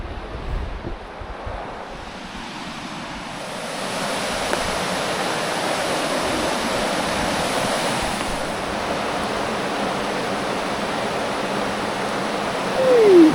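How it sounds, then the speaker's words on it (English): Continuous rushing water of a river pours steadily and fairly loud beneath a bridge, a broad, even wash of flow with a touch of wind noise. "listening to the sounds of the river"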